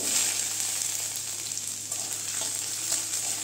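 Chopped ginger, whole cumin, bay leaf and dried chilli frying in hot oil for a Bengali papaya dal, a loud close continuous sizzle with a bright crackling hiss and faint stirring.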